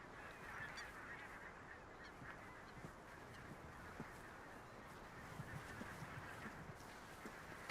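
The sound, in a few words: black-tailed godwits calling in wet meadow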